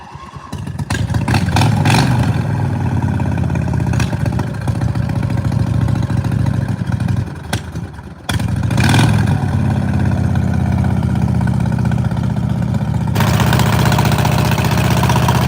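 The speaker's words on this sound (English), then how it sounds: "Bone stock Briggs V-twin, but straight piped." A stock Briggs & Stratton V-twin small engine with straight pipes barks loudly, sputtering and catching at first, then idling rough and revving in several sharp bursts, with a brief dip in the middle before running on steadily.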